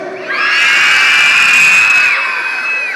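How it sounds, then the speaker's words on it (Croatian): A large crowd of children at a New Year's show screams loudly together in one sustained, shrill roar that swells and holds for over two seconds before easing off. "A sada odmah na početku želim da čujem jedan veliki vrisak"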